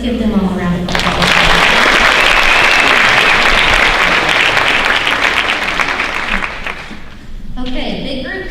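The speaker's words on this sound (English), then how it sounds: "Let's give them all a round of applause" A high school honors night audience in Bremen claps loudly and continuously after a short spoken introduction, the applause thinning near the end as a voice returns.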